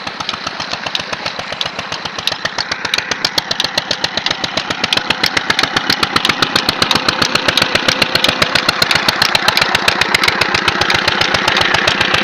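A small SD farm engine runs steadily with a fast, even thumping beat, loud and close, holding a constant pace for the whole stretch with no one speaking.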